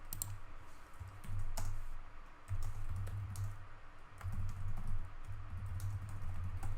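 A computer keyboard clicks with scattered single key presses over a steady low hum, with no voices.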